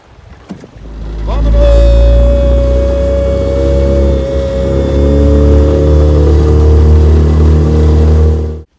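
A loud, steady drone of a small rental skiff's engine cruising the Strait of Juan de Fuca starts after a brief rumble and holds a constant hum close by, with a faint tonal whine riding on top.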